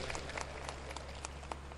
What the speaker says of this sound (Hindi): एक बार आप लोग इस्तकबालिया तालियां बजा दें